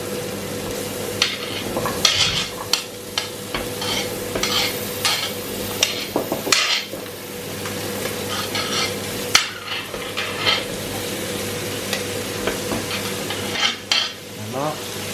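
Vegetables for a student-style vegetable soup are stirred and cooked in a pot: continuous sizzling and bubbling under repeated scraping and clinking of a utensil against the pot, close and busy, with no talk.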